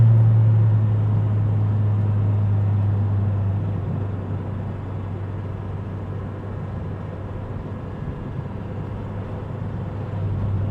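A Honda Civic Type R EP3 with fresh poly suspension bushes takes a tight corner, its engine a steady low drone that dips slightly midway and holds on, with road noise and no talk.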